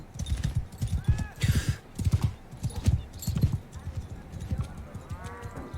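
Video-game horse galloping on hooves in a quick rhythmic clip-clop, steady and fairly close, with faint game sounds mixed in.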